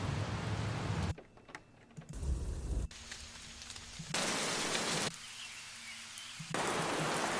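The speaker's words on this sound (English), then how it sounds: "I think this is the right kind of rain." Rain sample auditioned in Ableton Live, heard as a hiss of falling rain that cuts in and out in several blocks of differing level, with near-silent gaps between the bursts.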